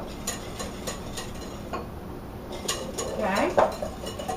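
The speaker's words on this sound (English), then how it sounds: "just whisk it till it all comes together." Eggs and brown sugar are whisked in a bowl, the whisk clicking against the sides in a quick steady rhythm up close, with a voice speaking briefly near the end.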